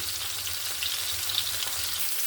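Catla fish pieces sizzle steadily in hot oil in a pan, a constant, close, dense frying hiss with no talk over it.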